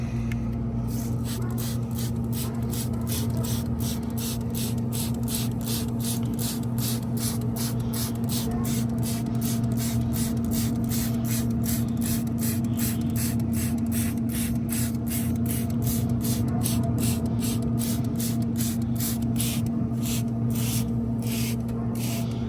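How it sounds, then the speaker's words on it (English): A spray bottle spritzes smoked ribs in a series of quick, evenly spaced pumps over a steady low hum from the smoker, continuing throughout with no talking. "So we're going to go ahead and spritz now."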